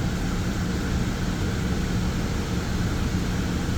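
A 2015 Chrysler 200 with the 3.6 engine idles after an overheating and coolant repair, giving a steady, even drone that holds unchanged throughout with no voices.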